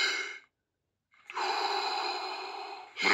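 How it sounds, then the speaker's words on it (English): Deep Wim Hof method breaths: one forceful exhale fades out, a pause follows, then a long loud inhale and the start of another breath, close and breathy with no speech. "Breathe in, breathe out, breathe in. Breathe out."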